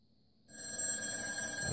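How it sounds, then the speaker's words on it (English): A red rotary telephone's bell starts ringing loud and close after half a second of near silence, a steady bright metallic ring continuing to the end. "we're going to call the red phone, and then we're going to go over and pick it up"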